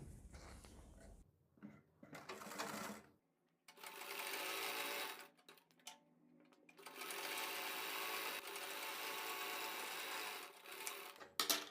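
A sewing machine stitches a straight quarter-inch-margin seam on a kurti in several runs of steady, fast whirring, broken by short pauses and soft handling sounds, close and loud with no talking over it.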